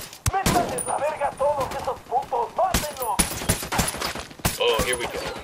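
Rapid gunfire bursts from assault rifles and other weapons in the tactical shooter game Ghost Recon Wildlands, loud and close, with sharp repeated volleys and brief gaps under ongoing voice chatter.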